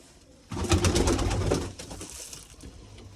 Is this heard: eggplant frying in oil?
no